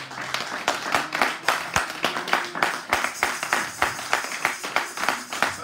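A church congregation claps in praise of the Lord, brisk rhythmic handclaps repeating steadily and close throughout, with no talking over them.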